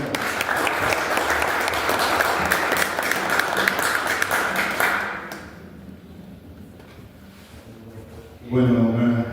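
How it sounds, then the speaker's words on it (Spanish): An audience gives applause with loud, dense clapping for about five seconds that then fades into a quieter room. A voice begins speaking near the end. "Así que pido un aplauso para Juan Carlos."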